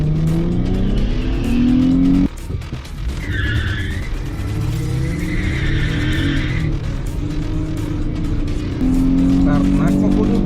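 Toyota cars launching at a drag race start, engines revving hard with rising, strained tones and a brief tire squeal, loud and close, while people talk over the noise.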